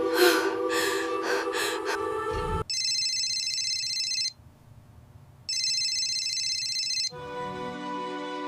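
A telephone rings in two long, steady electronic bursts separated by a quiet pause, following a moment of breathing and a gasp in a fantasy mystery film scene.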